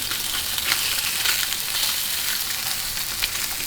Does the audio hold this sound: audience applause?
no